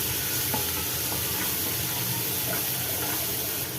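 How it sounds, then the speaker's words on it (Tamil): Steady sizzling and frying of onions with ginger garlic paste, with occasional stirring scrapes, continuous and fairly loud throughout, no voices. "இப்போ இதையும் சேர்த்து நல்லா வதக்கிக்கலாம்."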